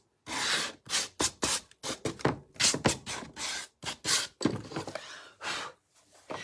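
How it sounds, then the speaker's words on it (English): Light hand sanding of a handmade candy cane craft piece, heard as a series of short, close rasping strokes in an irregular back-and-forth rhythm, with brief pauses between passes and no talking. "I'm just going to give it a light sand"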